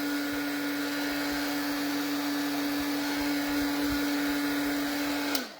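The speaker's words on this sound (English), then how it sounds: "And a heat tool. You cannot do without a heat tool." A heat tool for card making runs steadily and loudly on its own, a constant whirring blow with a steady hum, then cuts off abruptly near the end.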